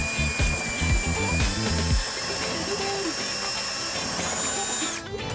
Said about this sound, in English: so we're not damaging that with the drill when we're creating our hole for the hardware